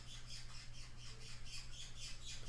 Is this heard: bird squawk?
yes